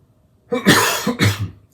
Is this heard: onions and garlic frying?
no